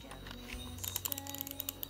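A cheap gaming keyboard clacks in a quick, irregular burst of crisp key clicks, close and fairly loud, following a brief moment of background noise without speech.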